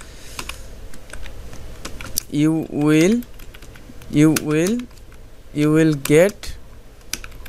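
Quick clicks from a computer keyboard tap steadily in the background while someone speaks in bursts over the typing.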